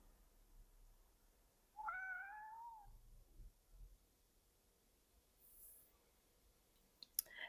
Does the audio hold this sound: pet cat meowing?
yes